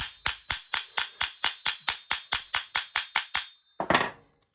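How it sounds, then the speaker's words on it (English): A hammer peens over a Ford Mustang roller spring perch with about fifteen steady, evenly spaced metallic strikes, loud and close, then a final heavier clatter before silence. "So we'll start here and we'll peen it over."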